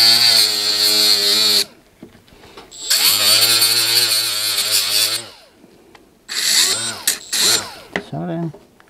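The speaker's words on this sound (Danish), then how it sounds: "Jeg har sådan en lille slibeværktøj her, hvor der sidder en sandpapirsrondel på." A small handheld grinding tool with a sandpaper disc, working on a long-idle Husqvarna garden tractor, whines loudly in three bursts with short pauses, its pitch dipping and rising under load.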